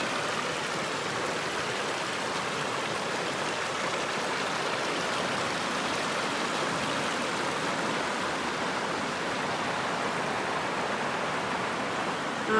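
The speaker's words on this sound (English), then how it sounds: "I was just filming the waterfalls" Waterfalls rushing near a portage on a wilderness canoe-camping trip, heard as a steady, even roar of falling water that fills the whole stretch without pause and with no voices.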